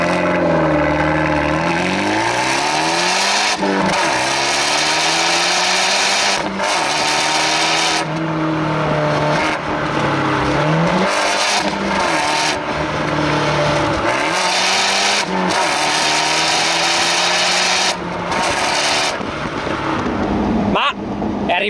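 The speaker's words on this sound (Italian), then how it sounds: "Qui abbiamo un terminale di scarico sviluppato ad hoc che riesce a far suonare questo 1400 multi-air" Abarth 124 Spider's 1.4 MultiAir engine revving loudly and up close through a custom-built exhaust, rising and falling in repeated pulls with gruff blips between them, continuous for the whole stretch.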